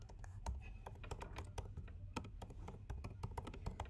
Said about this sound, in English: And then you can start typing here.